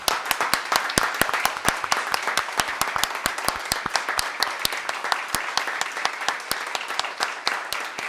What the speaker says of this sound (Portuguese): eu queria que vocês batessem uma salva de palmas para essas pessoas que estão em casa